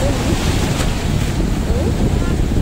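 Large ocean waves roar and wash close by at Calatagan, a continuous loud surge of water mixed with heavy wind buffeting, no voices.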